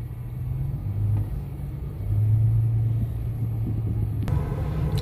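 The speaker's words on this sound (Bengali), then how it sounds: "ওই যে উপরে গাড়ি যাচ্ছে" Steady low rumble of cars crawling through a jammed city road, a continuous engine drone with slight swells, no one speaking.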